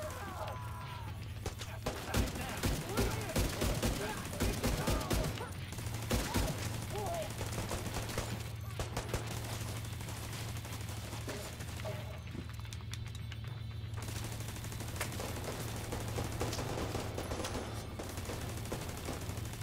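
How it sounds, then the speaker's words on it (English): An automated turret in The Division 2 fires long, dense bursts of rapid gunfire almost without pause, with a steady low hum and occasional louder cracks throughout. "This turret really puts in some work."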